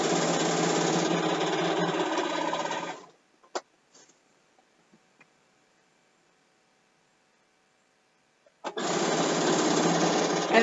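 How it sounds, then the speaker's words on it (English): A sewing machine stitches binding onto a quilt with a close, fast mechanical whir. It runs for about three seconds, stops for several seconds of near silence with a few small clicks, then starts again. "you want to start sewing about 1/2 inch from the very edge"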